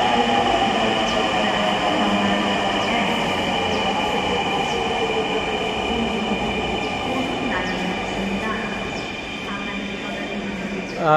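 Aboard a Dhaka metro train running from Uttara toward Shahbag, a loud, steady rumble and whine fills the carriage with faint wheel squeal, while people talk under the constant ride noise.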